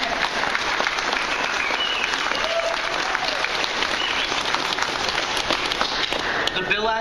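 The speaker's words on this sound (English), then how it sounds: "I want to take a moment to thank you and give you some applause" Sustained applause from an audience at a press conference on HB 213, a dense, steady clatter of many hands clapping throughout, fairly loud and close.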